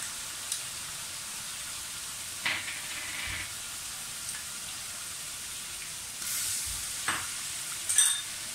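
Green chilli paste and garlic-ginger paste frying in a large pan for chicken korma, a continuous soft sizzle with a few sharp spatters and stirring scrapes, with no talk.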